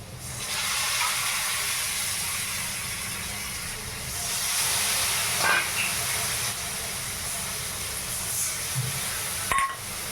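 Water added to spice paste frying in a pan, coriander among the spices, sets off a loud, steady steaming sizzle that hisses close throughout, with a few faint clicks and knocks.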